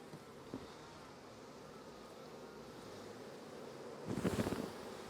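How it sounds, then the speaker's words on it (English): Honeybees hum over a hive frame of bees and brood during a heavy nectar flow, a soft, continuous buzz with one louder swell of buzzing near the end. "There's a whole frame of bees and brood there"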